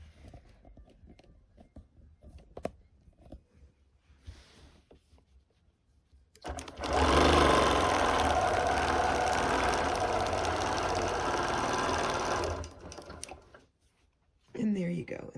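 Home sewing machine running steadily for several seconds while stitching quilt seams, a continuous close whir that starts after some quiet handling noises and stops abruptly, then briefly restarts.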